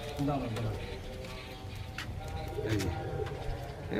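Pigeons in a loft coo softly in the background while someone talks over them close by.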